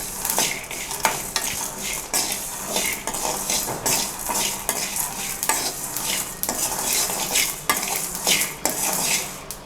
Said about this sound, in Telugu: ధనియాలు కొన్ని చిన్న మంట మీద వేయించుకోవాలి.